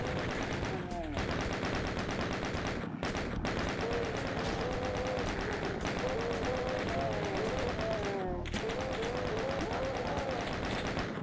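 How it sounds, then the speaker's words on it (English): Chaingunner enemies fire chainguns in DOOM II: Hell on Earth on PC, a dense, continuous loud rattle of rapid gunfire running the whole stretch, with other game effects and tonal sounds layered beneath. "these chain gunners are the bane of my existence right now"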